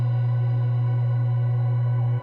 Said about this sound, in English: And that's our basic sine wave.